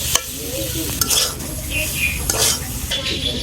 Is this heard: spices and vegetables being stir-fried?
yes